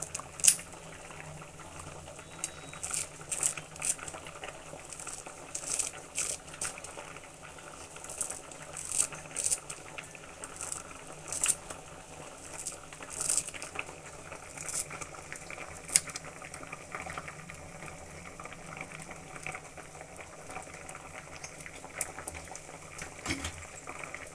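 Field bean sambar simmers in a pot with a soft, continuous bubbling and scattered small pops and ticks, faint and steady throughout, with no talking.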